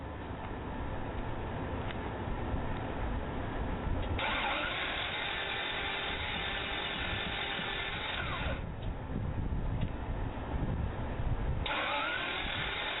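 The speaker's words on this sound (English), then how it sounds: "If your car is sounding like this, it sounds like you might be in trouble." A troubled car engine cranks and runs roughly, with a steady mechanical drone across the whole stretch and distinct shifts in tone as it strains, rev-like bands rising and falling, close and fairly loud with no talk.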